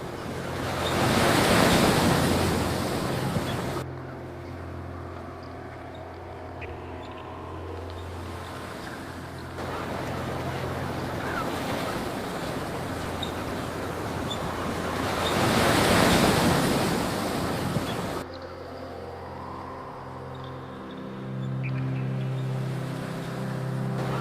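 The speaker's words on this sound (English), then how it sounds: "allow the sound of the waves to wash through your entire body" Ocean waves surge and roll in long, loud swells, each rising and fading over several seconds, with wind rushing across the microphone and no voices.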